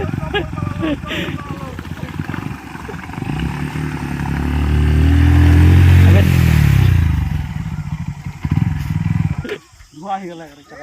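Motorbike crossing a river, its engine swelling from a distance to a loud, close roar and then fading, with splashing and people talking over it.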